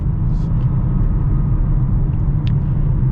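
A 2023 BMW M4 Competition xDrive set to two-wheel drive accelerates downhill, a loud steady low engine rumble heard from inside the cabin with a couple of faint brief clicks above it.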